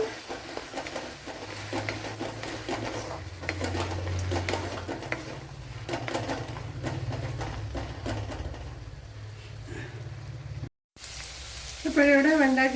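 Okra (ladies finger) sizzles steadily as it fries in sesame oil, with a few pan scrapes and stirring clatter, a brief cut, then a voice at the end.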